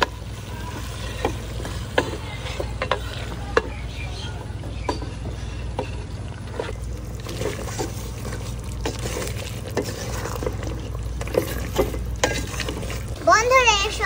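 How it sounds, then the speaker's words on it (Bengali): Vegetables sautéing in a pot for khichuri sizzle steadily while a spoon clicks and scrapes against the metal in irregular strokes, with faint background voices and a brief chirp near the end. "তো এবার সুন্দর মতন সবজিগুলো কষিয়ে নেব।"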